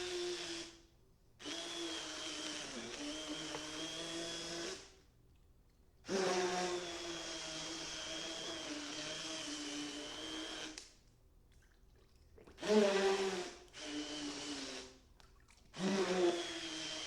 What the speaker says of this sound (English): I use an immersion blender for this purpose.